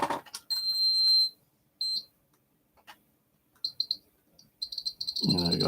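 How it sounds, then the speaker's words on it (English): A K2 EMF meter's buzzer bleeps in short high-pitched tones, a long sustained beep followed by several quick bursts, with faint handling noise and a low rumble at the end. "I think the buzzer might be going a bit weird on that"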